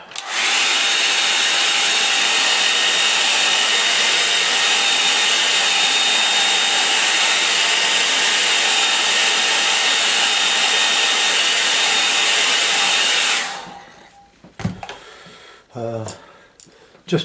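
A hair dryer blows loudly and steadily for about thirteen seconds, drying a pen and wash autumn oak painting on Fabriano paper, then cuts off into brief handling noises and a little speech.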